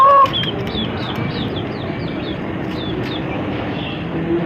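A hen that has just laid an egg gives a series of short clucks and squawks, moderately close, over a steady broadband background hum.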